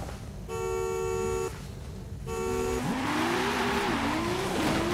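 Race cars in Forza Horizon 5 roar as engines rev and rise in pitch, with two long horn-like tones early on and then overlapping engine whines climbing and falling, close and loud.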